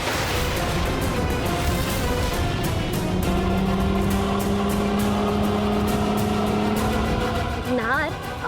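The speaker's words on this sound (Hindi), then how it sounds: "ये कार बार बार हमारी चक्कर लगा रही है" A car engine drones steadily nearby as it circles around, with a rising rev near the end, while people talk over it and a music score plays.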